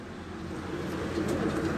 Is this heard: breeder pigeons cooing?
yes